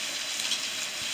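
Peppers and onions sautéing in a pan over an outdoor wood fire, a brief, steady hiss of frying with no distinct stirring strokes and no voices.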